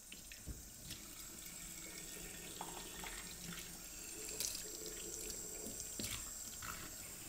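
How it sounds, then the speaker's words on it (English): Water runs steadily from a tap with faint splashing and clinks as nebulizer parts are rinsed, a quiet continuous hiss throughout. "Thoroughly rinse all parts with water again."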